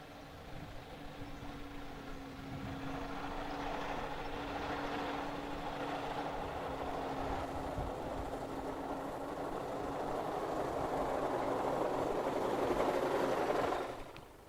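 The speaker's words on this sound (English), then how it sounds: "The White has a 2-cylinder compound engine and a 2-speed gearbox." A White steam car with a two-cylinder compound engine and two-speed gearbox runs steadily on a touring rally, giving a continuous mechanical chuffing hum with a sustained tone, ending abruptly near the close.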